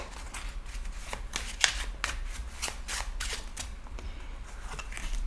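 Playing cards drawn and handled from a 54-card deck: a quick run of crisp paper flicks and slaps, close and fairly soft, with no voices.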